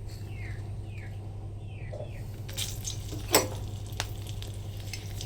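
Green and dried chillies frying in hot oil for a Bengali kamranga tok dal, with a faint steady sizzle, a clear stir or scrape of a utensil against the pan near the middle, and birds chirping in the background.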